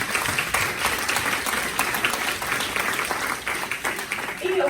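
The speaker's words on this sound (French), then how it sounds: "J'aimerais bien que vous les applaudissiez déjà." An audience at a French speaking contest breaks into sustained applause, dense and loud clapping with crowd texture that continues unbroken for several seconds.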